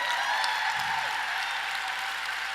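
Steady audience applause fills a hall for a Woman of Vision award acceptance, a continuous even wash of clapping at moderate level with no pauses.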